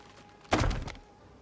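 In Project Zomboid, a plank barricade is pried off with a claw hammer, producing a single dull wooden thunk with a short rattling tail over a quiet background.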